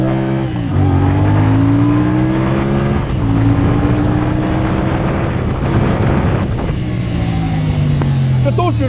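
A CFmoto CLC450 motorcycle accelerating hard on a test ride, its engine note rising and shifting pitch with loud, steady wind-blown roar up close throughout.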